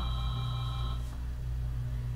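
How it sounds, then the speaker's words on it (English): A telephone rings in a tank game, two steady electronic ringing tones sounding for about a second over a low constant hum, then cutting off while the droning background continues. "And the phone rings yet again."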